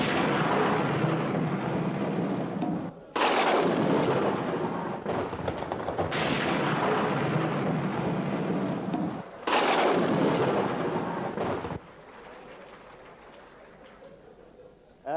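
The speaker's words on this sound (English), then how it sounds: "loud, deep, and long the thunder bellowed" Loud, deep rumbling thunder rolls in long heavy waves, with sudden cracking onsets, then fades to a quieter, distant rumble.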